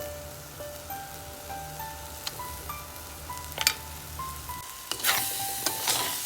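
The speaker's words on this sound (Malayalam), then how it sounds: "ഈ അരപ്പിട്ട് കൊടുത്തിട്ട് ഒരു 5 മിനിറ്റ് ഇങ്ങനെ ഇളക്കി യോജിപ്പിക്കുക" Tomato aviyal with ground coconut paste stirred in a pan, giving a soft, steady sizzle of frying with faint scraping strokes, a sharper burst near the end, and a quiet melodic tone running underneath.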